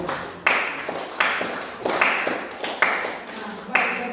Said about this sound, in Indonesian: Baik, kita tepuk tangan untuk kelompok kedua.